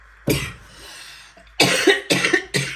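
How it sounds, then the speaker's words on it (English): One sharp cough, a short pause, then three quick, loud coughs in a row, close and raspy. "I'm sorry, I'm coughing, I'm getting choked up."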